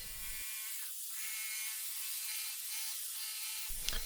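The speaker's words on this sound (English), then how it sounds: "Next I need to cut excessive plywood with my jigsaw" A jigsaw cuts through excess plywood in a workshop with a steady, fairly quiet whirring buzz that runs for about three seconds, framed by brief rougher bursts at the start and end.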